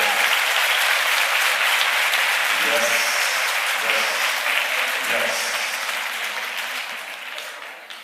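A crowd applauds after a keynote at the First 5 LA summit, loud sustained clapping filling the room, with a voice briefly speaking over it, then gradually fading toward the end.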